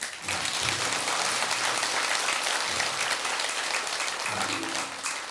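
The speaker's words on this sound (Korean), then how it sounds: "큰 박수 한번" Audience applause at a Buddhist dharma talk in a temple hall, a full, sustained burst of many hands clapping together, steady and fairly loud before tapering slightly near the end.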